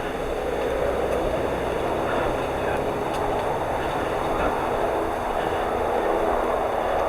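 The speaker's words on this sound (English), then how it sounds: "You can hear that helicopter." Navy training helicopter near Pensacola Beach, Florida, a steady broad rumbling drone overhead that stays constant throughout, with outdoor ambience and a voice faintly present beneath.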